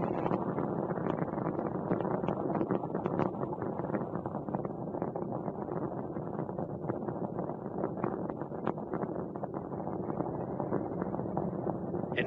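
Space Shuttle Endeavour's engines roar through launch ascent as a steady, distant, crackling rumble, broad and unbroken, heard alone without talk.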